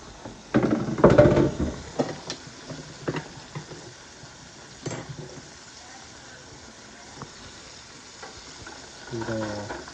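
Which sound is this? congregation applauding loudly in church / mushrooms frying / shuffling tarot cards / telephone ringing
mushrooms frying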